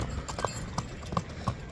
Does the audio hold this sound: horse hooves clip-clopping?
yes